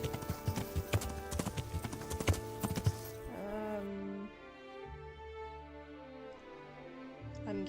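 Horse hooves clip-clop in Kingdom Come: Deliverance, a quick run of sharp, close hoofbeats that gives way to a steady rhythmic clatter under a sustained musical tone.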